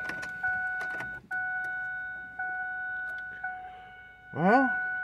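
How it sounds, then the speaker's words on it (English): Fuel pump running in a 1998 Ford Windstar that had sat unused for years, a steady high electric whine that cuts out briefly and restarts several times, fairly close, with a short rising whoosh near the end. "I hear a fuel pump."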